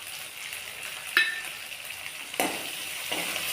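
Finely chopped tomato sautés in a hot pan with a steady, close sizzle, broken by a few sharp clinks of a utensil against the pan as it is stirred.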